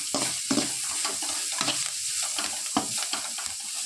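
Green chilies sauté with softened onions in a pan, a close steady frying sizzle broken by repeated scraping stirs at an uneven rhythm, no voices.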